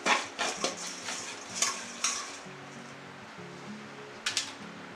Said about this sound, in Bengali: এবার আস্তে আস্তে আমি সব ভাজতে থাকবো।